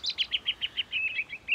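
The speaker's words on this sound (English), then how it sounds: "I recognize that bird. It's a robin." A robin chirping in a quick, even series of about ten bright, high notes, clear and close with no voices.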